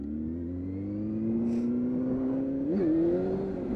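Honda Hornet 600 motorcycle engine revving on the road, a steady mid-pitched drone that climbs gradually in pitch with a brief blip near the end, continuous and fairly close.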